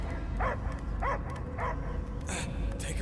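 Dog barking in the video game Guardians of the Galaxy: about five short, whimpery barks spaced unevenly over a steady low game-ambience rumble, moderately close.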